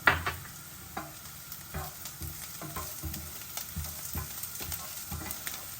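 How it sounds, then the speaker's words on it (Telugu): Onion, ginger, garlic and chillies frying in a pan, giving a continuous quiet sizzle with regular spoon taps and scrapes as they are stirred. "సో మన ఆనియన్ జింజర్ గార్లిక్ కొంచెం వేగుతున్నాయి"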